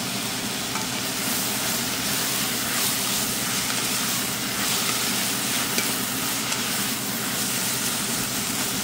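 Onions caramelizing in a pan, a steady, even sizzle with stirring noises running throughout at close range.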